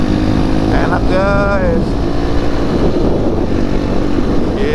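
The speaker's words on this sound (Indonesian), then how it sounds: "Kita main motor" Motorcycles ride along a road on a touring trip to Ciletuh Geopark, a loud steady engine drone with rising and falling pitch as they pass, while a person talks over it.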